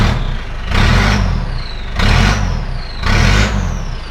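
A 2.5 turbo diesel 4WD idles nearby through a rust-holed exhaust, a deep rumble swelling in three regular revs roughly a second apart, loud and close with no talking.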